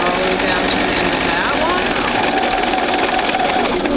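A sewing machine runs in a continuous, fast rhythmic whir while stitching paper-pieced quilt blocks, close and steady throughout, with a person speaking over it.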